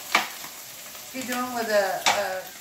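Oil sizzles on a flat griddle while a hamburger is cooked, a steady hiss with a few sharper crackles, close by, partly under a voice.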